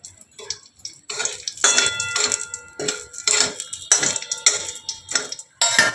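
Two green chillies frying in oil in a pan, with a run of sharp crackling spits and pops in bursts, close and fairly loud, with no one talking.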